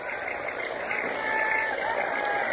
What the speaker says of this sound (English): The crowd is beginning to get noisy now.